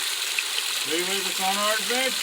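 Small waterfall on a wooded hiking property, a steady broadband rush of falling water underneath someone speaking.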